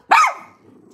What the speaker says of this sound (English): she's barking at the postal worker